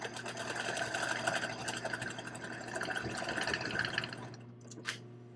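A sewing machine runs a straight stitch on an upcycled cotton jacket, a close, steady rapid whir for about four seconds before easing off into a few soft clicks.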